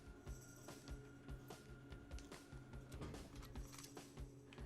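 A telephone rings in the video game Rocketbirds 2: Evolution, a faint repeating bell over steady background game music.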